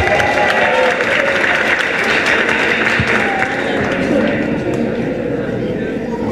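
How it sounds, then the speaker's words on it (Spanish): A crowd applauds a contestant at a singing talent contest's elimination round, with strong, sustained clapping and crowd noise mixed with some voices, filling the whole stretch at an even, loud level. "Un fuerte aplauso para él."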